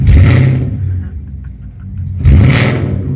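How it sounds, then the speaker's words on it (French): A Porsche Cayenne S V8 engine without a muffler revs hard twice, a deep throaty roar with a brief drop between bursts, close by and raw-sounding. "C'est un bruit de V8, mais limite d'américain."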